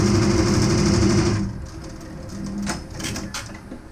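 An embroidery machine stitching a design runs with a loud, steady mechanical hum for over a second, then stops and gives way to quieter clicks and rustles close by.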